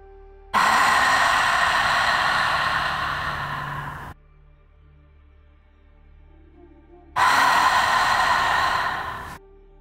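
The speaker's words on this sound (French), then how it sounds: "le son des vagues à travers de notre respiration" Two long, audible yoga ocean-wave breaths, each a steady hissing rush close to the ear that slowly fades, separated by a few seconds of near silence.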